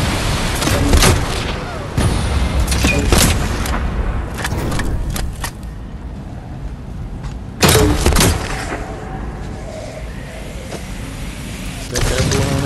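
Gunfire and explosive booms from the game Dead Island 2, loud bursts clustered early and again near the end, with a heavy blast at the midpoint.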